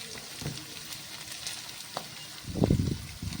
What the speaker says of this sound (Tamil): நம்ம ஜீரகம், கடலப்பருப்பெல்லாம் போட்டுக்கோம் இல்லையா, அது தீஞ்சிடாமல் நல்லா வதக்கி விட்டுக்கிட்டே இருக்கலாம்